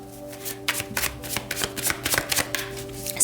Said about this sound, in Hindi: चलिए शफल कर लेते हैं कार्ड्स को आपके लिए।